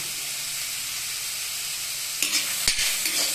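Curry leaves drop into onions frying in hot oil in a pan for a potato fry, giving a steady loud sizzle that flares with sharper crackling bursts near the end.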